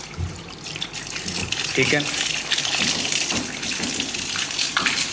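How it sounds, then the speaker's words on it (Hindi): A 12V DC water pump runs during a heat and pressure test, its water gushing and splashing steadily from start to finish, fairly loud and close, with someone speaking briefly over the flow. "ये यहाँ पे हाथ लगाएं तो पता चलता है कि पंप जो है पानी ऑन हो चुका है।"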